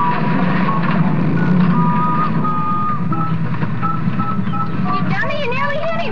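An old Sanford and Son style truck rolls along in a forest scene from a film, engine rumbling steadily while high reversing-style beeps chirp near the end, with voices talking over it.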